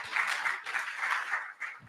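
Audience applause at a conference on digital assets in Africa, a steady wash of clapping from many hands that swells and dips across the moment, fairly close and without talk.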